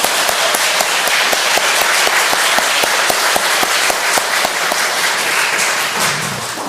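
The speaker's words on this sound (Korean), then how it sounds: "다시 한번 박수하겠습니다" Loud, sustained applause from a church congregation for a choir during a Sunday service, dense crowd clapping with a few sharp, evenly spaced claps standing out before it starts to thin at the end.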